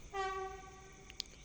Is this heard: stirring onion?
no